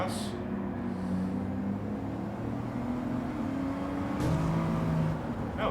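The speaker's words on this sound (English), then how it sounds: "Right, let all these cars pass." Several race cars in Gran Turismo 7 sweep past one after another, engine tones rising and falling in pitch as each goes by, with a steady motor drone underneath.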